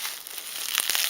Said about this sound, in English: So we're getting through a first layer of bubble wrap. Maybe we can peel this now like a banana.